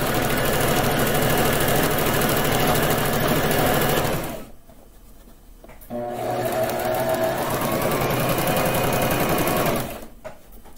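A sewing machine stitches across a surgical mask in a loud, steady whirring run, pauses briefly for about two seconds, then starts again and runs until near the end.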